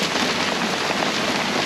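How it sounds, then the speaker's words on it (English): Heavy rain pours down during a squall aboard a sailing boat, a dense, steady hiss of drops drumming on surfaces, loud and close with no break and no voices. "Big rain."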